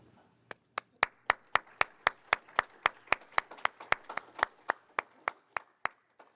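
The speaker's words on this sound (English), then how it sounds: "I think they deserve a round of applause." A single person claps slowly and evenly, about twenty crisp, close hand claps in a steady rhythm at a seminar on mental health awareness, otherwise quiet.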